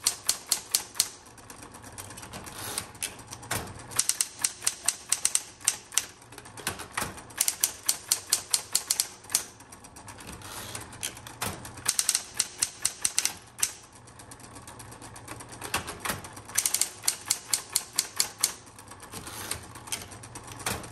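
A metallic blue 1970s Smith Corona Electra 120 electric typewriter types steadily: rapid close keystrokes in bursts, with sharp clacks over a constant motor hum and brief pauses between runs.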